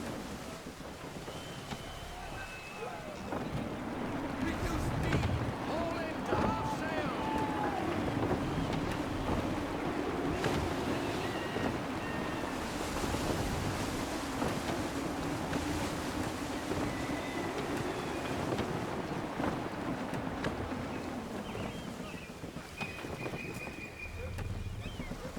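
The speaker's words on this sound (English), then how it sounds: "Gusty winds can be difficult to manage." A sailing ship at sea in Assassin's Creed sails through gusty winds. A steady wash of wind and creaking hull noise rumbles on, mid-level, for the whole stretch, and a voice talks over it in places.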